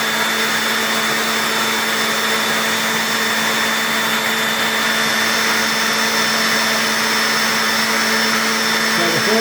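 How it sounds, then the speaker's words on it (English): A Dyson V15 cordless vacuum cleaner runs as a blower, giving a loud, steady high-pitched whir with a constant motor hum that holds unbroken throughout, with no talking. "Now what you can do is just turn on the blower vac."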